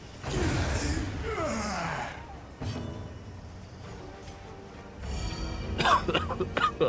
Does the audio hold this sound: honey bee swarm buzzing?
no